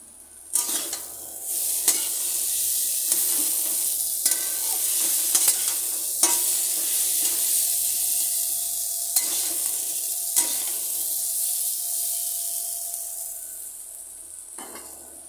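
Sautéed food being stirred in a hot pan, with a bright continuous sizzle broken by several distinct spoon scrapes at irregular intervals, close up and loud, with no voices.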